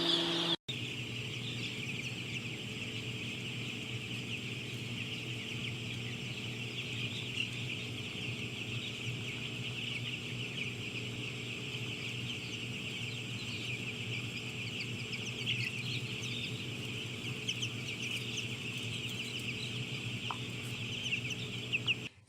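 A barn full of chicks just a few hours old, a continuous dense chorus of high peeping and clucking that fills the space steadily at a soft level.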